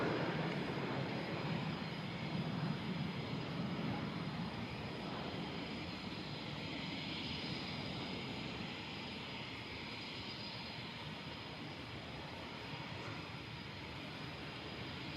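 Embraer C-390 military transport flying at the Farnborough air show, a steady broadband jet roar holding for the whole stretch, moderately distant and slowly fading a little.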